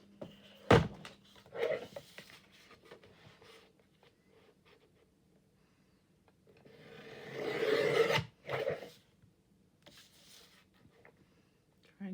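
Scissors or a craft knife trim paper for a faith-themed collage, giving soft rasping, rubbing cuts in short bursts with a longer, louder stretch of cutting near the middle, close by and fairly quiet.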